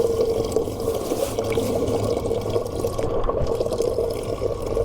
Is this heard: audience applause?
no